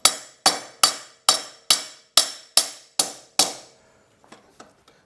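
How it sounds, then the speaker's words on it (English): Nine evenly spaced metal-on-metal hammer blows drive a tool against a motorcycle steering head bearing race, each sharp strike decaying fast, followed by a few lighter, quieter taps. "position it on the bearing race, make sure it's seated there, and then just using a hammer,"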